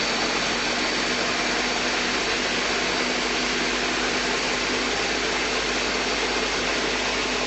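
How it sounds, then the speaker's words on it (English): A blender runs at low speed through tomato basil soup, giving a steady, loud, unbroken whir that holds at an even level from start to finish with no voices. "So we're going to blend. I am just going to go on a low speed here for just a few minutes until I get a nice smooth soup."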